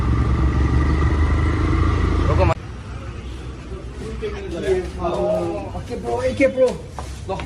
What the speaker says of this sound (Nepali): यहाँ राजदाईको बाइकमा चढेर हाम्रो भाइहरू अगाडि छ।